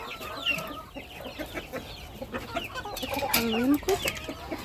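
Cochin chickens cluck repeatedly at close range in a farmyard, with busy overlapping bird calls and a few louder squawks.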